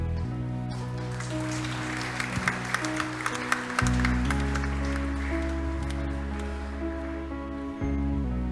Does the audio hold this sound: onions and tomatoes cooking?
no